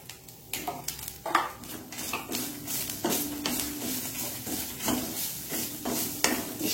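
Grated coconut with turmeric frying in a pan, the spoon scraping and clattering against the metal in repeated strokes over a soft, steady sizzle, with no talking.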